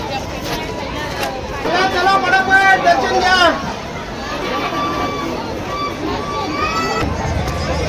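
Crowd at a village fair (yatra) in Ranjanoli, a steady hubbub of many voices with children's shouts and a loud melodic horn or music burst near the middle, close and continuous throughout.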